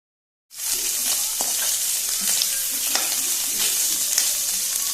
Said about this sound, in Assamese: এয়া আমি মাংসখিনি অকণমান ফ্ৰাই কৰি লৈছো, তেলটো ওলোৱালৈকে।